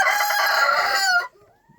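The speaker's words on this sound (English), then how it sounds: "then Sarge is crowing, like I said, because he's dominant" Sarge, a dominant rooster, lets out a single loud, close crow that holds for about a second before cutting off into near quiet.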